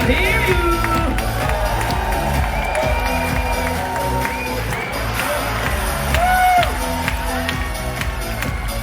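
Cruise ship passengers cheer, whoop and shout as one loud crowd at an evening event aboard the Celebrity Ascent, the noise steady and continuous throughout, with voices and music-like tones mixed into the din.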